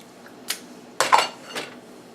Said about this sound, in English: I do have my small spatula, and I'll go in and I'll stir it up.